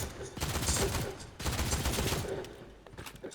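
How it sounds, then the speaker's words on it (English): A Fury assault rifle firing in the video game Halo: two rapid, high-rate bursts of clattering shots, each with a loud start, with the second tailing off into quieter game sounds. "This version of the Fury assault rifle."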